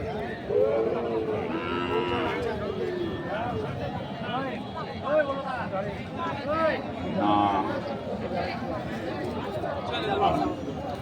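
Sahiwal bull calves at a busy village cattle market low and moo repeatedly over continuous crowd chatter and nearby talking voices.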